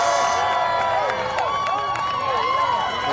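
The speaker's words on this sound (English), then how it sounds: "big round of applause for Jerrica Rojas." Crowd cheering and applauding at the 2023 SWAC softball tournament game between Grambling State and Prairie View A&M: a steady, loud roar of many voices with rising shouts and whoops, continuous for the whole stretch.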